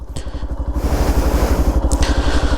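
A Yamaha FZS V4 Hybrid 2025 motorcycle engine idles with a steady, throbbing low putter, close by and fairly loud, with no voices.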